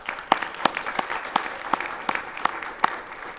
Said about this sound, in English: I want to just give a quick round of applause for Cheryl